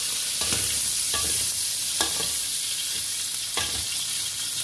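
Pork frying in a pan until golden brown, a constant close hiss of sizzling fat broken by several soft scraping stirs.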